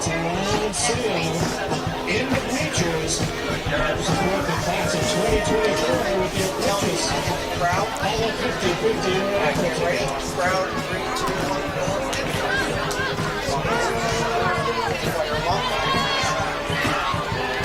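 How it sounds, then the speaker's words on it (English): Steady crowd babble and chatter from spectators at a high school football game between Clinton and West Boylston, a continuous dense murmur of many voices under nearby commentary. "Pretty good crowd on the West Boylston side today, too, which I figured."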